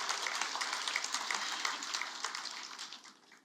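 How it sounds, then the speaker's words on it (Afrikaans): Church congregation applauding, dense steady hand clapping from many people filling the room, gradually thinning and fading toward the end. "kom ons gee net vir hulle hande klap"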